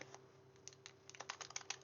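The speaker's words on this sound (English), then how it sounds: "this particular one I'm going to cut with fancy scissors" Fancy scissors snip around a paper card mat: faint, crisp little clicks, sparse at first and then coming faster in a quick, uneven run.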